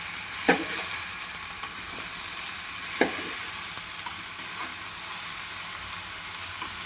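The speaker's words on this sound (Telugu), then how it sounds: "అందుకని నేను కిలో బెండకాయలు తాలింపు చేసుకుంటున్నాను" Okra fries for an Andhra-style tempering in a pan, a constant bright sizzle close by, punctuated by a few sharp clacks of a spoon stirring and scraping through it.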